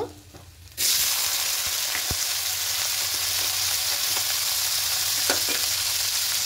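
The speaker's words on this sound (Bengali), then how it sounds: "এবার এখানে পেঁয়াজ কুচি দেব।" Chopped onion hits hot oil in a pan spiced with cinnamon, cardamom and cloves, bursting into a loud, even sizzle that holds steady, with a faint clink or two of stirring.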